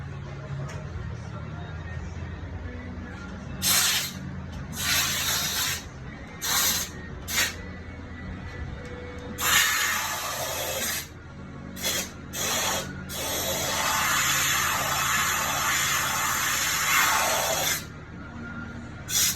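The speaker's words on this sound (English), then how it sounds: "I have an air compressor over here" An air compressor blows between forge quench plates holding stainless steel, giving loud hissing bursts of air. Short blasts come first, then one long sustained spray, with a low hum underneath and people talking between bursts.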